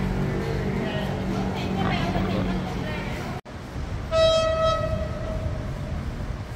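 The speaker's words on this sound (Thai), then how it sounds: "ขบวนรถธรรมดาที่281นะ4408" A train passes through Thung Song railway junction with a steady rumble of rolling wagons, then a brief gap and a loud, sustained horn blast, close by with voices talking over it.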